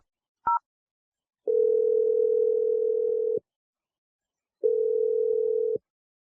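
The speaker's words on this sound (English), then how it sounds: "I'm going to dial her number right now." A telephone call being placed: one short keypad beep, then two long steady ringback tones separated by a pause of silence, clear and close.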